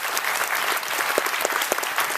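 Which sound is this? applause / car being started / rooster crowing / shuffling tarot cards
applause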